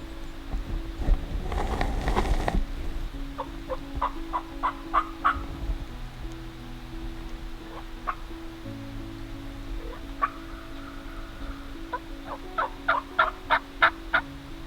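A wild turkey tom gobbles repeatedly in rapid bursts at mid distance, with a louder rustle or vehicle-like rumble early and a steady low hum underneath.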